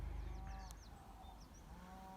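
Cattle low and call on a farm in the early morning, a distant moo rising over steady outdoor background noise, with a few faint higher animal cries scattered through.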